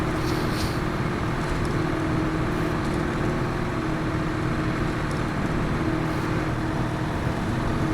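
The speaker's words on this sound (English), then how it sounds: "It also sounds like it's just idling constantly." A Cummins X15 truck engine idles in a video game, a steady low droning hum that holds unchanged at close range with faint background noise and no talking.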